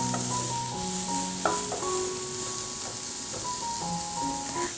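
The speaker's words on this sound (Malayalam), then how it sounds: "സവാള ചേർത്ത് കൊടുത്തതിന് ശേഷം വീണ്ടും നല്ല രീതിയിലൊന്ന് വഴറ്റി കൊടുക്കണം." Onion sautéing in a pan with beans and egg for a beans egg poriyal, a steady sizzle with occasional stirring scrapes, heard alone without talk.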